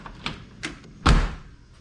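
The door of a 1978 anniversary-year Chevrolet Corvette swings shut with a solid thunk after a few light taps and rattles, a single close slam fading quickly.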